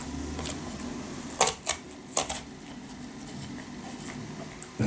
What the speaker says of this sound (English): So I will use this knife to cut